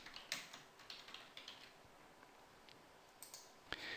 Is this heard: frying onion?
no